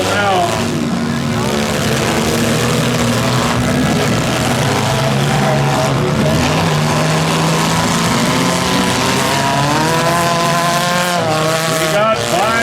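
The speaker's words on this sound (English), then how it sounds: "We got 5 cars still running." Battered stock mini cars grind through a demolition derby final at Schomberg, several engines droning and revving at once with scraping and shifting pitch, loud and close, while an announcer talks over the din.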